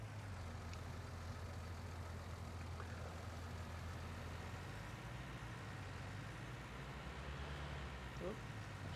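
A tractor engine idling in Farming Simulator 19, a steady low drone throughout with faint shifts in pitch, heard under quiet background.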